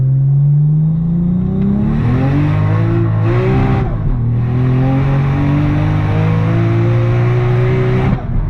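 A Nissan R32 accelerates hard through second and third gear, its engine note climbing loudly, dropping briefly at the upshift, then pulling up again in a strong, close, continuous roar.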